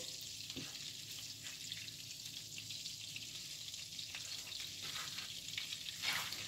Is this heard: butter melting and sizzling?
yes